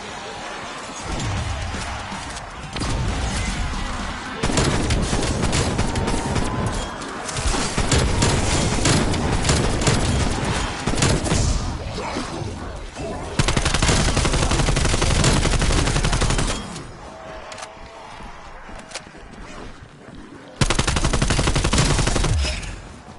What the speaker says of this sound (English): Let's spin out the turret a little bit.